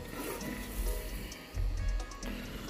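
Water spraying down inside a tub, a steady hiss of spray with a few louder low gushes as the stream shifts against the tub surface, close and continuous with no talking.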